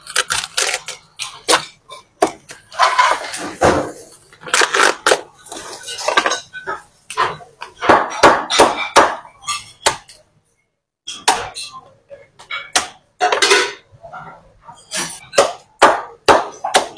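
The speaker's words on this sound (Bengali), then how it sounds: "এখন আমি এটা কাটবো।" A knife cuts boiled shrimp on a board while making Italian catalana, giving bursts of sharp, close taps and chops separated by short pauses.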